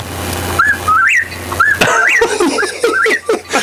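On an AM radio talk show, a man whistles an imitation of a whippoorwill's call: several quick rising and falling whistled phrases, close and loud, with laughter mixed in between.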